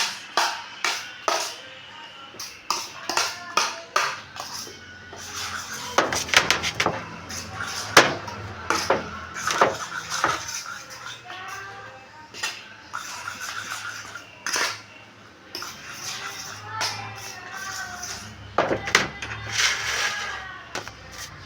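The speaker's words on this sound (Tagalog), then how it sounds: "Tapos haluin lang natin ng haluin." Sweet potato leaf omelette mixture stirred in a bowl, with repeated light clinks and scrapes of a utensil against the bowl in an irregular rhythm, close and moderately loud, a few sharper knocks standing out.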